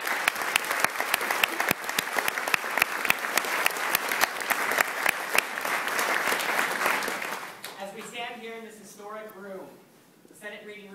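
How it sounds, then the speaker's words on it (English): Audience at a Massachusetts transgender bill of rights signing ceremony applauding in a dense, sustained burst of clapping that carries for several seconds, then fades and gives way to a voice speaking. "you came back time and again, and you deserve our applause"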